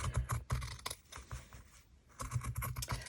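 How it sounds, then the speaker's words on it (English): Fabric scissors trimming excess fabric for a handmade vintage-style fabric book: a rapid run of crisp close snips and rustles, pausing briefly midway before resuming. "So bring in my fabric scissors and I'm just going to eyeball this."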